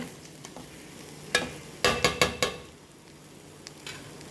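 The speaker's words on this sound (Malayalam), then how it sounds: "ഒരു ബ്രൗൺ കളർ വരുന്ന വരെ ഒന്ന് ഫ്രൈ ചെയ്യുവാണ്." Cinnamon, cloves and cardamom fry in oil for soya biryani, a soft steady sizzle broken by a burst of sharp spoon-against-pan scraping and stirring knocks near the middle.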